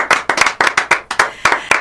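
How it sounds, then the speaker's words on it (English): Rhythmic clapping from an audience at a music awards event, loud sharp claps in an even, regular beat, about four per half second, close and alone without talk. "I'd like everybody here to give David a round of applause for what he's done for this community"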